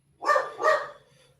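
Two quick, loud barks from a dog, close to the microphone, with a quiet moment after them.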